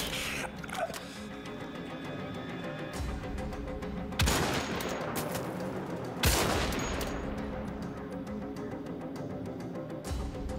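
Gunfire in the video game Wolfenstein: The Old Blood while sniping on the docks: two loud, separate shots a couple of seconds apart, each with a booming tail, over steady game ambience and music.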